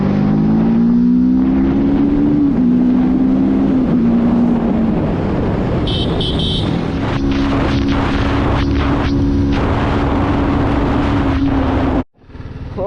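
A TVS Apache RTR 310 motorcycle with a 312 cc engine is heard while riding: a loud, steady engine drone holds close for most of the stretch, its pitch rising and falling with throttle changes, then cuts out briefly near the end before returning.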